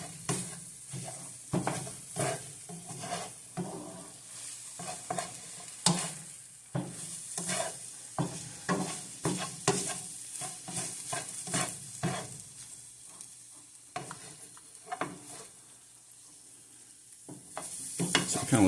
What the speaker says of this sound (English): I'm going to use a spatula to break it up some.